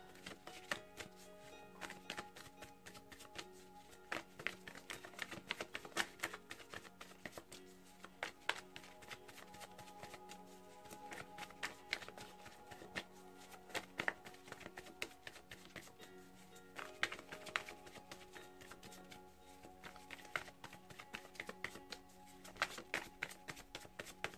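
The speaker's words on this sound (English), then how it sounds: "I'll show you the cards, but I'll continue the shuffle." Tarot cards being shuffled continuously, a dense run of soft riffling taps and flicks that goes on steadily without pause and with no talking.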